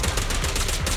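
Rapid gunfire from a shooter in Zenless Zone Zero, a dense burst of loud cracking shots running through the whole moment with no speech over it.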